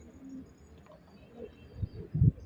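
Low, soft cooing from pigeons, a few throaty bursts near the end over quiet background rustle.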